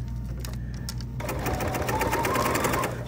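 A Bernina sewing machine stitches through bulky fabric layers for a cosmetic project bag, a steady close mechanical whir with rapid needle chatter that picks up speed partway through.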